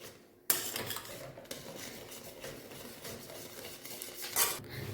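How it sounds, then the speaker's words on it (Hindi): A spoon stirring custard apple rabri in a metal pot: close scraping and clinking of metal against the pot, fairly steady with a couple of sharper knocks, quiet and without talk. "इनमें चम्मच फेर दे"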